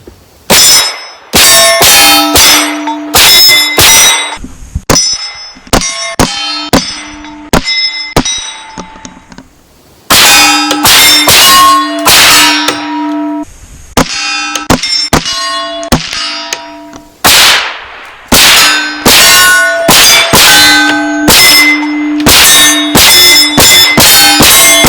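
Rifle rounds from a Sig Rattler MCX striking steel shooting targets, producing loud, sharp metallic clangs and ringing pings in rapid bursts with short pauses between strings.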